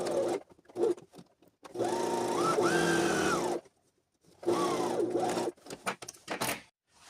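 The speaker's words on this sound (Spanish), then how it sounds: "ahora vamos a hacer una costura de carga. Esta costura va a medio centímetro por la diagonal solamente" Sewing machine stitching a diagonal seam on a trouser pocket, two long sustained runs of motor whine that rises and falls in pitch, close and steady, separated by a short pause and a few brief taps.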